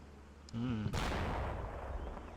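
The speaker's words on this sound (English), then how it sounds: "instantly getting some return fire there from a BMP-2, it looks. Yeah, there's some cannon fire coming in there." Cannon fire from a BMP-2 in a war video game: a single heavy, sharp report followed by a long, rumbling decay, with a faint tonal sound just before the blast.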